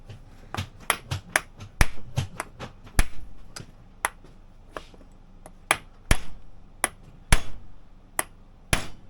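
A hammer taps a bolt through plastic sleeves during a skid steer rebuild, giving about twenty sharp, close metallic knocks at an irregular rhythm, some in quick pairs, with quiet gaps between.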